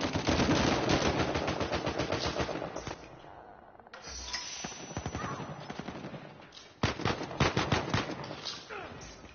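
Rapid automatic gunfire rattles in Uncharted 4 player-versus-player combat, with loud dense bursts separated by brief pauses and a sharp final volley.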